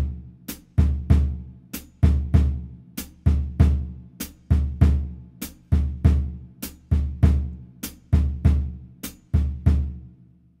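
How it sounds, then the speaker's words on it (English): A samba foot pattern on a drum kit, alternating hi-hat pedal and bass drum, plays as an even, repeating loop of deep thumps with crisp chick accents. It is close, steady and unaccompanied. "the sort of standard samba foot pattern on the drum kit sort of goes between pedal, hi-hat and bass drum, and it sounds like this"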